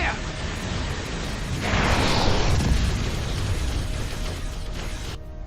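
Starship weapons fire and a swelling, roaring explosion from the space game Star Trek Online fill the scene with dense, booming noise that peaks in the middle and fades out.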